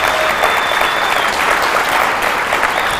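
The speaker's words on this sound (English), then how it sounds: "Please, big round of applause to Madame Basant." A symposium audience gives Madame Basant a loud, dense round of applause, continuous close clapping throughout with no break.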